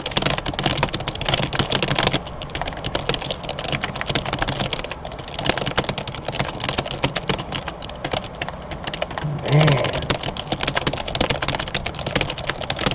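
Fast, dense typing on a computer keyboard during practice for a typing championship, a rapid unbroken stream of close, crisp key clicks.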